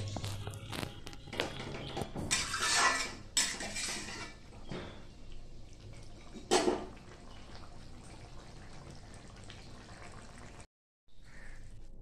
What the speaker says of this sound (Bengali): তো দেখুন নাড়াতে নাড়াতে